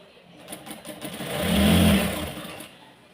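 A sewing machine stitches the lining onto a saree, a steady mechanical whir that swells in the middle and then eases off, heard close up with no talking.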